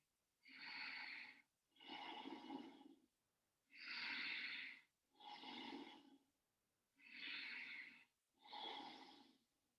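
Deep breathing during a yoga backbend, six slow, audible breaths in a steady rhythm, each a long airy rush close to the microphone, separated by short silences.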